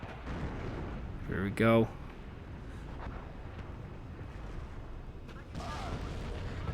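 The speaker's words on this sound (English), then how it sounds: "And I'm calling down my artillery, the M106A2s." Distant M106A2 mortar-carrier artillery fire in the war strategy game WARNO: one short booming burst stands out over a steady rumbling battle ambience, with someone speaking briefly.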